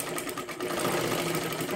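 A sewing machine running a continuous, fast mechanical whirr close up as it double-stitches the seam of a princess-cut blouse, steady and loud with no break.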